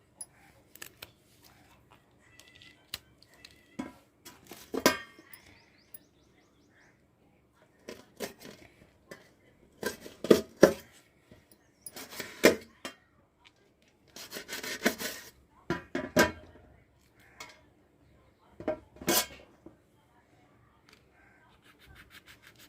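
Green chilies chopped with a knife on a board in a home kitchen, heard as irregular clusters of sharp close cuts and scraping strokes with quiet gaps between bursts.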